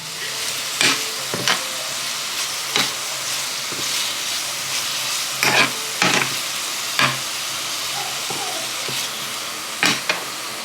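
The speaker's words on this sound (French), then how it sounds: "là, ma viande est en train de cuire" Meat sizzles steadily in a home pan, a continuous frying hiss with sharp pops and crackles breaking through at irregular moments, close and fairly loud, with no talking.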